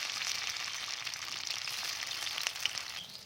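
Pieces cut to size sizzle and crackle in hot oil, a steady bright frying hiss with scattered pops, close and moderately loud with no talking.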